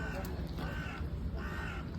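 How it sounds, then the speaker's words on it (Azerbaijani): A crow caws a few times over a loud, close city background rumble during a walk, the calls fairly clear but partly masked by traffic-like noise. "Ha, qarğa."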